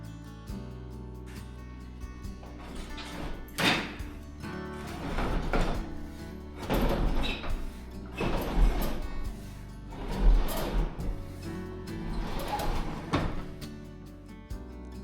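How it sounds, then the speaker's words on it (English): Window coverings in an apartment in Durres, Albania are slid open in a series of rustling, scraping pulls, each a few seconds long, close by over a low steady hum. "we had to figure out how to open the window coverings"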